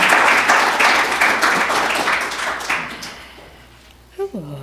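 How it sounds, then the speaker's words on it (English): Audience applause at an annual summit of a police civilian internal affairs review commission, a dense, steady clapping crowd that swells loud and then gradually thins and fades out, with a voice speaking briefly near the end. "Let's give a round of applause for Mayor Melvin Carter."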